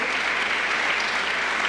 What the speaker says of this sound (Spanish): con un muy cariñoso, caluroso aplauso a Pastor Moisés Pichardo